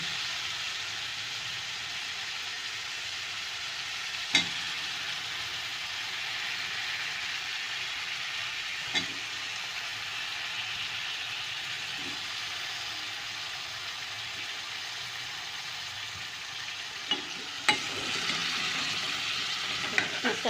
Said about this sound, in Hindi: मसाले में मिक्स करें आहिस्ता आहिस्ता कि बाहर न गिरे।